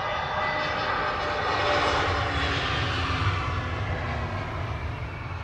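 An EasyJet airliner passes overhead with a loud, broad engine roar that swells and then eases slightly, steady and unbroken with no voices.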